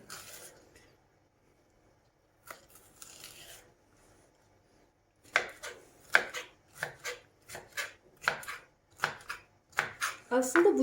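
Rhythmic knife chopping of vegetables on a board in a home kitchen, about ten sharp strokes in steady succession, close by, with a few quieter rustles before the chopping begins.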